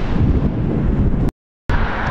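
Heavy wind buffets a phone microphone with loud, low rumbling gusts that cut out briefly to silence midway and then return, outdoors on the Morbihan coast in Brittany.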